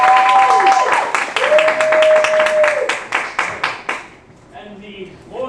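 Theatre audience clapping to vote for a character in a stage show, a burst of scattered close handclaps with a sustained tone and voices mixed in, fading out near the end.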